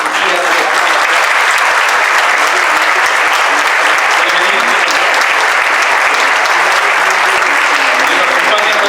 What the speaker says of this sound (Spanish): pido también un caluroso aplauso para el arquitecto Marcos Chabot